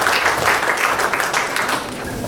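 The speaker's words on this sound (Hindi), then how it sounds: "अब जोरदार तालियों से स्वागत कीजिए नाना पाटेल जी का।" Audience at an art exhibition opening in a hall applauding to welcome Bollywood star Nana Patekar, a steady dense clapping that fills the whole moment, loud and close, then tapering slightly.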